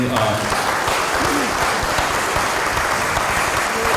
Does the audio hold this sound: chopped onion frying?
no